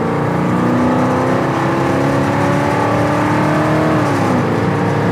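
A 1969 Pontiac GTO engine revs hard and accelerates steadily, loud and close, with rising harmonic tones and a brief shift near the end; no one speaks.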